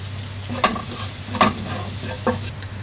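Cumin seeds fry in melted butter in a hot pan for Kerala-style butter chicken, giving a steady sizzle broken by three sharp spatter pops or stirring clicks.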